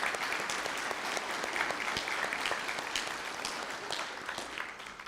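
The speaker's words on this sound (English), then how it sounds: "So a big round of applause for all those folks" Sustained audience applause at a school graduation ceremony, dense and even clapping from a large crowd that holds steady for about five seconds and eases off slightly at the close.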